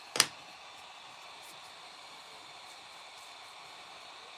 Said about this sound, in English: Area Man uses tiny electronic hairdryer.